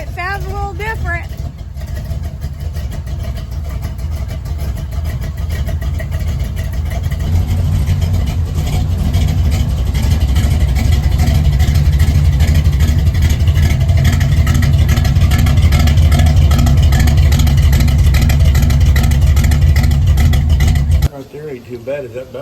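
A square-body car named Rusty with its exhaust, engine droning steadily then growing louder and deeper as it drives, a sustained heavy rumble that cuts off abruptly near the end, with people talking over it.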